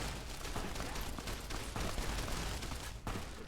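Rapid gunfire from Fallout New Vegas crackles in dense, overlapping bursts throughout, loud and continuous with brief gaps.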